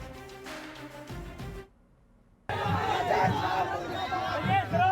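A crowd of RJD party workers shouting slogans against Rajesh Ram, loud massed voices in repeated rhythmic bursts, cut off briefly by a near-silent gap before the chanting resumes.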